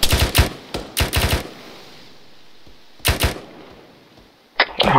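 Automatic weapons fire in ARMA 3 during a military operation, with sharp close bursts of rapid shots, quiet gaps between them and a final short burst, loud and without talk.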